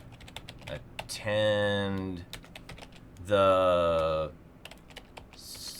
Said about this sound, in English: And you can just keep typing.